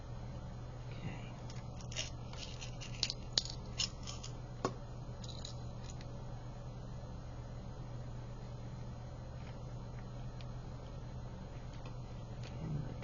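Scissors trimming canvas close up, a cluster of crisp snips and clicks in the first five seconds, then a quiet steady hum with no talking.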